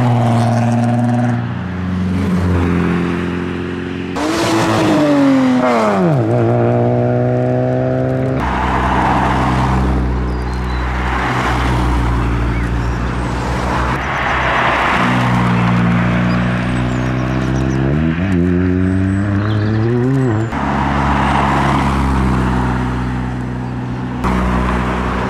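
Cars leaving Castle Combe after Spring Action Day 2022 drive along a village road. Loud engines rev and accelerate past one after another, with pitch sweeping up through the gears and a steady road roar between them.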